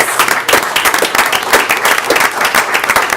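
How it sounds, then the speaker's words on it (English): A crowd at a town council workshop applauds a soccer team, loud, close clapping that swells in uneven pulses and continues throughout. "Let's give them a big round of applause."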